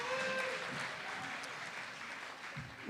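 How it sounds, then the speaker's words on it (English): Audience applause at a PechaKucha presentation night, a steady wash of clapping from a crowd that holds for about three seconds before tapering slightly. "give her another round of applause"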